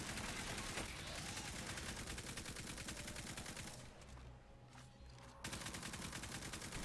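Rapid gunfire from a Titan's weapons in Destiny 2 during a Legend Lost Sector boss fight, a continuous stream of shots with a short lull partway through, dense and steady.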